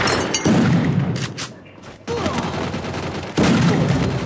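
A shotgun fires in a video game: heavy, booming blasts come in a few bursts separated by brief lulls, loud and close with a dense rumbling tail.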